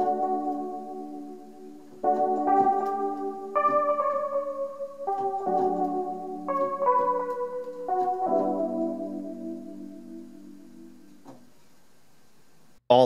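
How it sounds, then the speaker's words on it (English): A remixer synth keys patch processed through Guitar Rig effects plays a sequence of sustained chords that change every second or two, warm and moderately loud, ringing out on its own with no speech before a sudden cut. "So the remixer keys patch with Guitar Rig on sounds like this."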